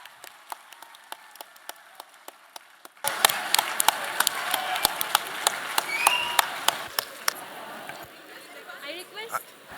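An audience claps for a guest speaker at a lecture event, with sparse scattered claps at first before applause swells into a dense, sustained round, mixed with crowd chatter.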